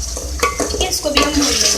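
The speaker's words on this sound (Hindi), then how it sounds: "इसको भी हम भून लेंगे" Beef mixed with yogurt is stirred and fried in a pot for bhindi gosht. Loud, close scraping spoon strokes come in a quick uneven rhythm over a steady sizzle, with no talking.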